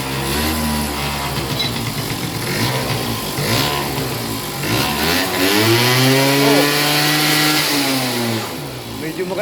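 A Yamaha Mint 50cc scooter engine with a suspected carburetor fault idles and revs loudly up close, its pitch rising and falling through several throttle blips while people talk over it.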